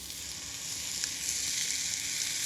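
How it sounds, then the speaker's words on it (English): Meat browning in a casserole pan sizzles steadily, a continuous bright crackling hiss at moderate volume with no voices. "put the meat in, wait for the sizzle"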